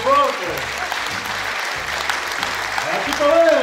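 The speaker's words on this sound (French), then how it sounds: "On l'applaudit forte." An audience claps steadily and fairly loudly over a thumping music beat, the applause dense and continuous while a performer's voice talks over it at the start and close.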